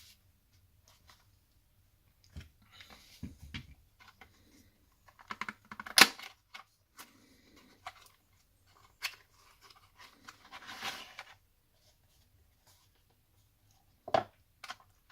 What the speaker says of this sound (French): nous allons effectuer le déballage ensemble. Chouette petite boîte, toute petite.